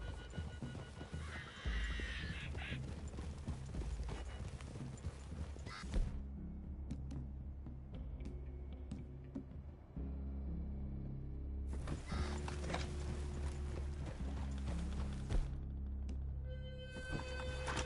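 Horse hooves clip-clopping at a walking pace with occasional snorts, over a low steady hum; no talking, video game ambience throughout.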